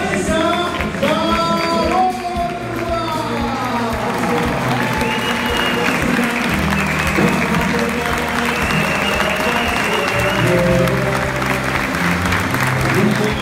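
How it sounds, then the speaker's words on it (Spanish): An audience at a world-title boxing event applauds an Argentine 55-kilogram female boxer, steady crowd clapping under a loudspeaker voice and music throughout. "Aplausos para Vanessa"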